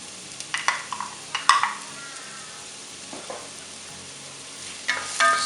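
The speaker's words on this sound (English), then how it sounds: "Saute it a little bit." Diced onions and garlic sauté in olive oil in a pan, giving a quiet steady sizzle broken by several sharp scraping stirs of a utensil, close and alone with no talk.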